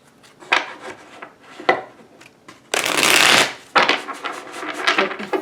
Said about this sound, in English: Few of these shuffles going.